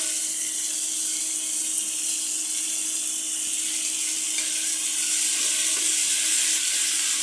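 Garlic paste and winter vegetables frying in oil for a dried-fish curry, a continuous even hiss and crackle at close range with a faint hum underneath, no talking.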